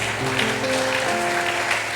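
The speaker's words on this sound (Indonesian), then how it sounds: "Berikan tepuk tangan bagi Tuhan." A church congregation gives sustained, dense applause throughout, with faint music or singing tones under the clapping.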